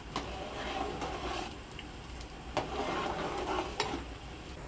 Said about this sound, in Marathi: आणि आता चांगली उकळी येऊन द्यायची.